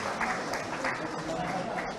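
An audience claps through a steady, dense round of applause at an education excellence award ceremony, while a presenter's voice carries over the clapping.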